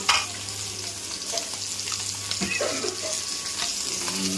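Fish frying in oil crackles and sizzles continuously at close range, with a few clinks and stirring sounds of the pan and no voices.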